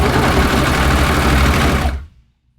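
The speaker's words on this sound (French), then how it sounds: "des petites sections que je couds pour lui donner sa forme" A sewing machine stitches a short section of stretch fabric into a garment sleeve, running loud and steady with a dense mechanical whir for about two seconds before stopping abruptly.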